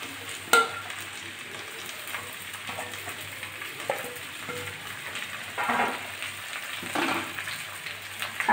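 Chopped greens, including bitter gourd leaves, ivy gourd greens and water spinach, sizzle steadily in oil over low-to-medium heat without water, with occasional scrapes and stirs of a spatula in the pan.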